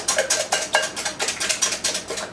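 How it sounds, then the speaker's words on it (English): A whisk clinks rhythmically against a bowl, about a dozen quick strokes, while evaporated milk is beaten into a rich quiche filling. "And I'm going to whisk that in."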